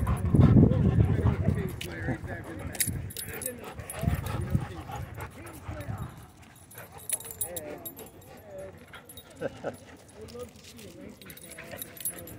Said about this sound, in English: So the Australian cattle dog and the husky have been playing for a while over there in the background.